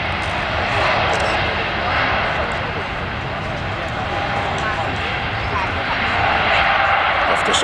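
A Singapore Airlines jet takes off along the runway at Manchester Airport, its engines giving a loud, steady broadband roar that builds slightly toward the end, with a person talking nearby over the noise.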